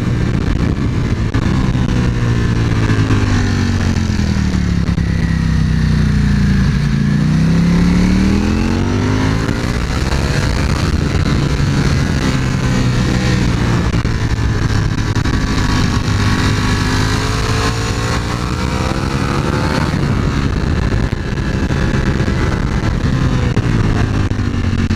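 A Ducati Panigale V4 S motorcycle engine roars loudly and continuously on a test ride around a tight circuit, its pitch rising and falling as it revs up and down through the gears.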